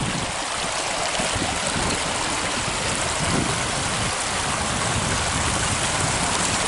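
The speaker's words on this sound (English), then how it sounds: "I got that pipe all cleared out so it's flowing free." After heavy rain, water rushes freely through a cleared drainage pipe with a loud, steady, unbroken roar.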